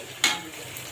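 Onions fry in hot oil for crisp beresta, giving a short close sizzle with a brief sharper scrape or clink of stirring.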